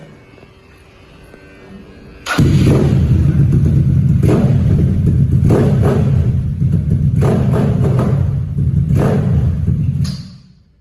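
A Mio 4V scooter engine fitted with a 72mm piston and longer stroke starts up and runs, a loud close rumbling idle with a few revving blips, held steady for about eight seconds before cutting off.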